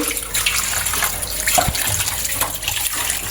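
Soaked food is washed by hand in water with salt, producing continuous close sloshing and splashing with no voices.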